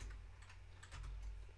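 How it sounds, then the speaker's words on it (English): Someone types rapidly on a computer keyboard during a coding session, producing a quiet, steady patter of key clicks with a few sharper strokes and no talk. "keyboard going crazy"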